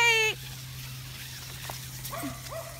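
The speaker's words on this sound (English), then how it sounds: "What are you barking at?" A dog on a group walk gives a short, sharp bark at the start, followed by a couple of softer whiny yelps over a steady low hum.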